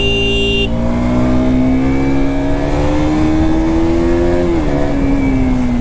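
A KTM RC 200 motorcycle engine revving past 6000 RPM, a loud, close, continuous drone whose pitch climbs steadily for several seconds, then drops briefly as the rider shifts gear and pulls again.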